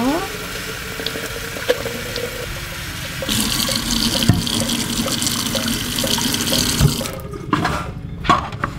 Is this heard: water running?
yes